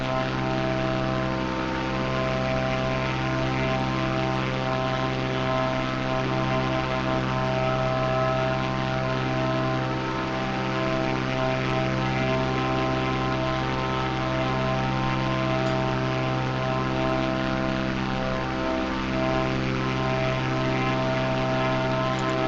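Propeller airplane droning steadily in a flight video game over Split, Croatia, a constant loud engine hum with strong tonal harmonics throughout, no voices.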